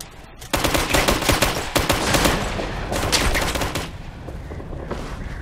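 Rapid automatic gunfire in Operation Flashpoint: Red River, a loud sustained burst of close shots in quick succession that thins toward the end, with no voices over it.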